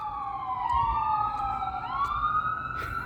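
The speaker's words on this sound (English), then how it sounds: "Like that siren right there. Blasting off, man." An emergency vehicle siren wails nearby with a rising and falling tone, sounding continuously over low traffic rumble.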